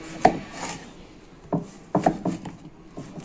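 A knife chops fulluri fritters into small pieces on a board, giving a few scattered woody thuds and a quick run of cuts, close and without talk.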